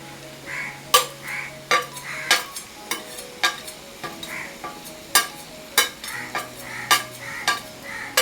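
Chicken masala is stirred and roasted in a pan, a utensil scraping and clinking against the metal in regular strokes roughly every half second over a soft background sizzle.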